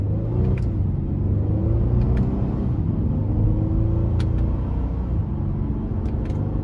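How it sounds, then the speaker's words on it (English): A 2023 Honda Pilot EX-L with a 3.5-liter V6 accelerating under part throttle, heard from inside as a loud, steady engine drone and road rumble with rising tones, and no talking. "the acceleration is actually really great because I'm only putting my foot down about a third, in between a third and halfway down"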